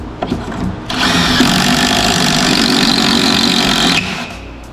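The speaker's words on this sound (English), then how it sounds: "then we take our special drill bit" Power drill boring a pocket hole in a wood board: a loud, steady whine holds for about three seconds, set between quieter handling and shop noise.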